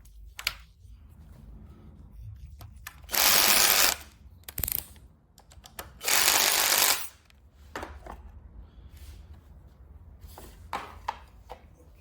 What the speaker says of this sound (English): I will remove the cover and let you have a better view.